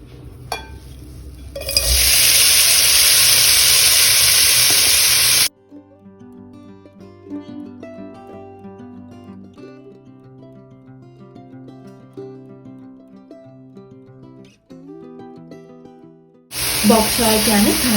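Bok choy leaves hitting a heated pan with a little oil for a quick high-heat sauté, a loud steady sizzle for several seconds, then a quieter stretch with music-like tones before the sizzle returns.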